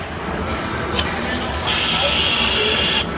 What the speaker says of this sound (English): Let's see the welding.